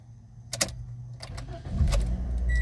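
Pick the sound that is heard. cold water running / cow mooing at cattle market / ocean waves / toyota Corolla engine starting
toyota Corolla engine starting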